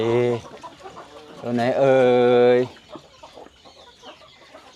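A mother hen with newly hatched chicks gives two drawn-out, tonal calls close by, followed by faint, thin chick peeps, with someone talking briefly.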